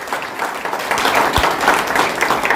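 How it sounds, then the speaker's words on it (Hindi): Applause rolls through the audience at a Holi celebration gathering, a steady, fairly loud patter of many hands sustained from start to finish. "आपकी तालियां, जोरदार तालियां मुझे बाहर तक सुनाई देनी चाहिए।"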